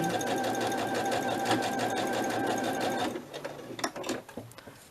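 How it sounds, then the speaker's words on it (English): A sewing machine vibrating on a table runs in a fast, rattling stitching rhythm for about three seconds while binding a soft spine journal, then stops, followed by a few softer clicks and taps. "Sorry, it vibrates on my table, the sewing machine."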